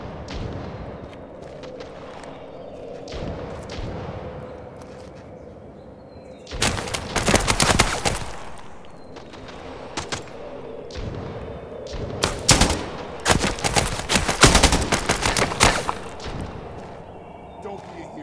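Bursts of gunfire from the shooter game Fargone, heavy rapid volleys separated by quieter stretches, loud against a busy ambient game background with a voice talking over parts of it.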